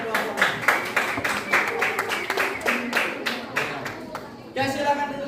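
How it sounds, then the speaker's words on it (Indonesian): Classroom applause after group 6's presentation: many hands clapping in a dense, steady patter for several seconds, with a few voices murmuring underneath before it thins out. "Kita beri aplaus dulu terkait dengan presentasi dari kelompok 6"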